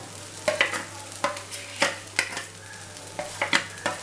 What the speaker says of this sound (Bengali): যেটা বেটে রেখেছিলাম সেটা আমি তেলের মধ্যে দিয়ে দিলাম।